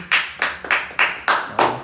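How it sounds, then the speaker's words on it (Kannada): A grandmother claps her hands six times at a steady, moderately quick pace, each clap close, crisp and distinct, with no talk. "ಅಮ್ಮಮ್ಮ ಕ್ಲ್ಯಾಪ್ ಹೊಡಿ"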